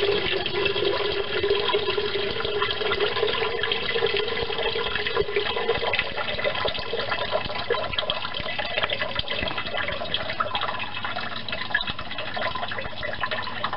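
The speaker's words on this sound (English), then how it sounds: "drain the water into the sump" Water draining out of a 2002 Ford Falcon engine into a sump during servicing: a steady, continuous splashing gush that holds at a constant level for the full length, with no voices.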